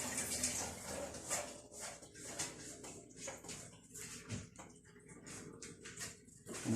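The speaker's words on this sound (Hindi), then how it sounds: "पानी चलने की आवाज आ रही है ना।" Tap water runs steadily in a kitchen while coriander is being washed, a soft continuous splash with brief patters and clinks, fairly close and moderate in level, with no talk.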